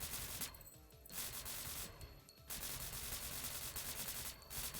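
Bullets fire automatically in the game Nimrods as a continuous, crackling barrage of rapid shots. It stays steady and fairly quiet, with brief dips in density.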